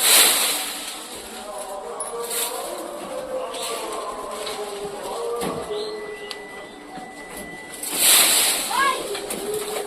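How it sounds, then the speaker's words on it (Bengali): Pigeons coo and flutter close by while pecking at scattered rice and wheat grains, with a louder burst of wing and scuffling noise near the end and voices faintly in the background. "তো সব কবুতরগুলো দেখতে তো কত সুন্দরভাবে খাচ্ছে"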